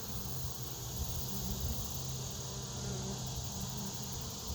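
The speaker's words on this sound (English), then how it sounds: "there's a bunch of bees in there" Honey bees inside a hive give a steady, close, moderate drone that continues without a break.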